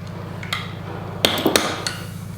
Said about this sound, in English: These screws are brass, so you just give them a tap.